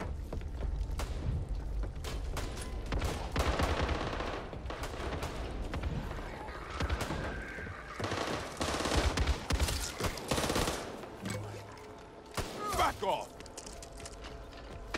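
Repeated shotgun blasts and gunfire in the video game Back 4 Blood, loud bursts scattered across a busy stretch with footsteps and game noise, while voices speak intermittently.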